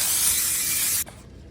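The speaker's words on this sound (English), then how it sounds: "I'll spray the parchment paper." A single steady burst of aerosol cooking spray onto parchment paper, hissing close by for about a second, then cutting off abruptly.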